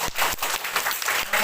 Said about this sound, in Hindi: तो एक बार ताली बजाओ।